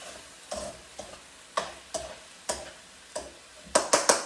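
Potato, bell pepper and tomato stir-frying in a pan, with a spatula scraping and tossing in regular strokes about every half second over a soft sizzle, the last few strokes quicker and louder.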